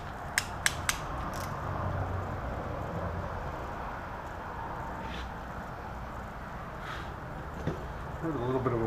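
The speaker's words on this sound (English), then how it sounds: "Heard a little bit of a weird noise there when I was tightening it up" A ratchet turns bolts during bottom-end assembly of a BMW M10 engine, with a piston being seated. A few sharp, close clicks come at the start, then a steady background wash with a faint creak near the end.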